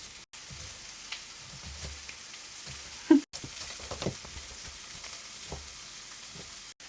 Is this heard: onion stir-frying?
yes